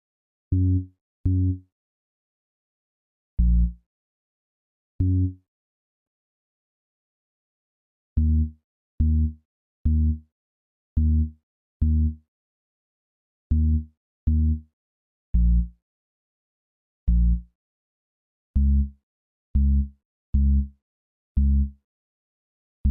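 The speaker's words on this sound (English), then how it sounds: "We're going to input the bass line using the piano roll." Short, punchy synth bass notes play in clipped bursts, sometimes paired, sometimes in quick runs, separated by silent gaps.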